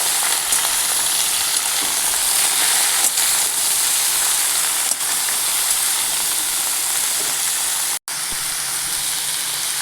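Beetroot and mixed vegetables sizzle steadily in a hot pan while being stir-fried, a loud continuous frying hiss with occasional stirring scrapes and a brief gap near the end.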